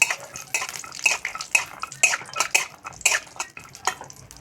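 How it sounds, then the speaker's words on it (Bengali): A metal spatula scrapes and clinks in rhythmic bursts against a hot wok as cashews fry in ghee, with a faint sizzle beneath the close, bright stirring strokes. "তো কাজুটাকে আমি ভেজে নেব।"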